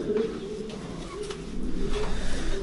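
Several pigeons coo inside a breeding loft, a low throaty warble that swells and fades in repeated waves, nearby and steady, with faint background stirring.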